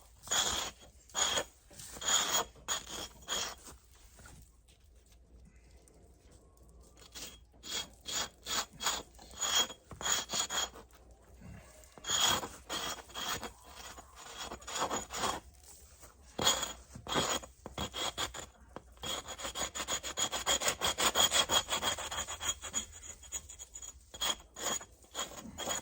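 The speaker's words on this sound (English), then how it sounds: "Scrape this salt off." An ulu scrapes salt off an animal skin being worked for tanning, giving repeated close, dry rasping strokes in bursts with short pauses between them, steadier and denser near the end; no talking.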